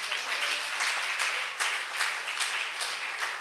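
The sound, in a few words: church congregation clapping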